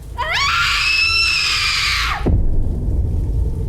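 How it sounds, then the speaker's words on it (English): A girl screams in an audio drama, a long, loud, rising shriek that holds for about two seconds before cutting off into rain-like background noise. "this girl in a white dress standing in the middle of the road, screaming her lungs out"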